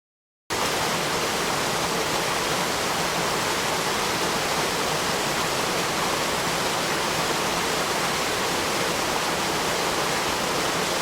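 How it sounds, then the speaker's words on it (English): Waterfalls pour down the north flank of Sgurr Choinnich in the Scottish mountains, a steady, broad rushing roar that holds even and unbroken throughout. "Some nice waterfalls there coming down from the north flank of Sgurr-Choinnich there."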